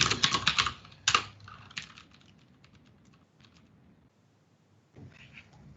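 Computer keyboard typing, close and crisp: a quick burst of rapid keystrokes, then scattered, slowing taps fading to near silence before a brief soft resumption at the end; no talking.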